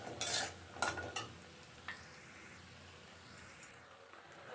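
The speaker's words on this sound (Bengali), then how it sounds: "এর মধ্যে আমি দিয়ে দিচ্ছি 10-12টা বড়ি।" Ten to twelve store-bought bori lentil dumplings drop into hot oil for sukto, setting off sharp bursts of sizzling that settle into a softer, steady fry with faint stirring.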